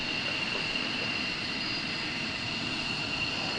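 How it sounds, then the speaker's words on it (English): An airliner jet departs runway 28 left at Portland International Airport, a steady, loud engine roar that holds constant throughout. "we got our second departure of the day here on runway 28 left"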